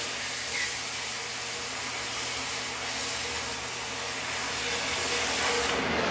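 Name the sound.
oxy-acetylene torch cutting steel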